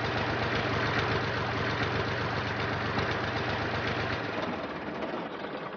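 A tractor engine idles with a low, steady, chugging rumble that carries on evenly, then drops slightly quieter near the end. No one speaks.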